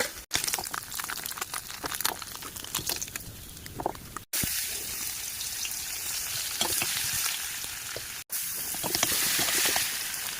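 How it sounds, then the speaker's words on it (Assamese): Loud, continuous sizzling of tomatoes frying in a pan, crackling steadily with a couple of brief pauses, close up and without talk. "বিলাহীখিনি ভাজি ল'লোঁ ফাৰ্ষ্টে"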